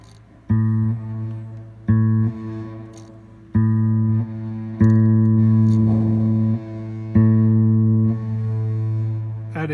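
Electric guitar through a distorted reverb patch on an Empress ZOIA pedal: a series of loud, fuzzy sustained chords, each struck and ringing out with a thick, washy tail, played alone with no talking.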